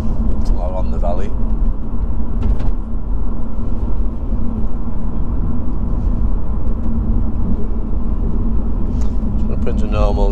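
Lotus Evora engine droning steadily in a low, continuous rumble while driving through Castleton, a small valley village in England, with brief voice fragments over it.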